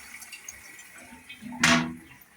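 Water from a newly fitted bathroom tap gushes in one brief, fairly close burst after a low, quiet background.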